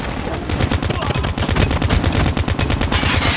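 Rapid automatic gunfire from a sentry gun in Call of Duty Mobile, a dense, loud, continuous burst of shots throughout, with other game sounds mixed in.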